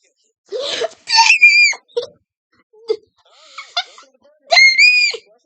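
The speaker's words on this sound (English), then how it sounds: "Oh, I know how to scream! Yippee! My scream came back!" An animated character screams in several loud, high, wailing bursts separated by short gaps, with brief vocal noises in between.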